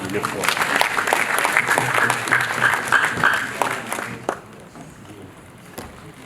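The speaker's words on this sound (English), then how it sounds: "can we clap for Honorable Emiloko KK Raji?" Audience at an African Youth Day conference applauds a guest of honor, a full steady round of clapping that drops away after about four seconds, leaving quieter room noise with some murmuring.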